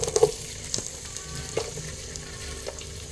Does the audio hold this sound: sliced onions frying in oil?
yes